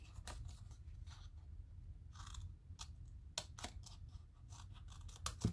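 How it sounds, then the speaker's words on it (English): Scissors snip through thin craft material for a holiday hand sanitizer holder, a series of faint, sharp cuts at an uneven pace, close by and quiet. "you're going to cut this side just exactly the same as you cut that side"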